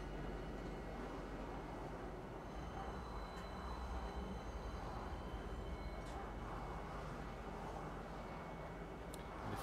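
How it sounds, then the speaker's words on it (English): A train in the video game Star Citizen rumbles toward a station platform, a steady low mechanical drone with faint high squeaks, continuous and moderately quiet throughout. "about 22 seconds or so and your train will be arriving."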